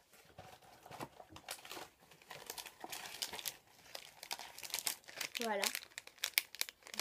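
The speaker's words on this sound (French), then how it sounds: "J'ai ouvert le paquet." A crinkly plastic packet of Poki Panda stick snacks being torn open and handled, with dense rustling and crackling close by throughout, while a person speaks briefly over it.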